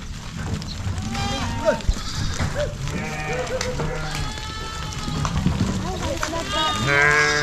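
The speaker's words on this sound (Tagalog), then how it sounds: "May kambing, may tupa." Sheep and goats bleating on a ranch, several animals calling repeatedly at varying distances over a busy outdoor background, with people talking throughout.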